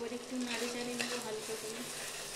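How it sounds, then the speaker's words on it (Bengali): Chicken liver curry simmers in a pot with a steady, dense bubbling and sizzling texture, fairly loud and continuous, with faint tonal hum underneath and no talking. "টবক টবক ডবকাচ্ছে একেবারে"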